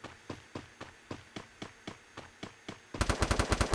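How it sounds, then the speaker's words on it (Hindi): Gunfire in the mobile battle royale game Free Fire: a steady series of evenly spaced single shots, then a faster, louder automatic burst, crisp and close with no speech over it. "ओहो वहाँ पे फायरिंग हो रही है।"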